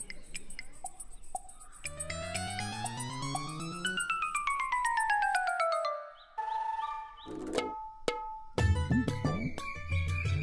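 A mobile phone plays a melodic electronic ringtone, with a run of tinkling, rising and falling tones and chimes over ten seconds, close and fairly clear, then gives way to a few clicks and rustles at the end.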